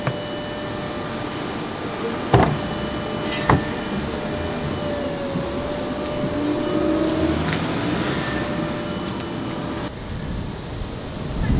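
A glass-floor car pulls away with a steady, smooth hum and broadband rolling noise, joined by a couple of sharp clicks early on and a faint rising whine.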